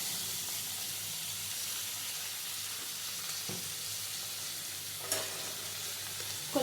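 Asafoetida dropped into hot oil gives a steady close sizzle and hiss of frying, with a few faint clinks from a spoon.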